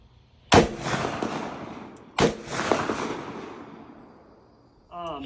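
.44 Magnum or .475 Linebaugh test loads fire two sharp, loud gunshots about a second and a half apart, each with a rolling echo trailing off, followed by a brief voice at the end.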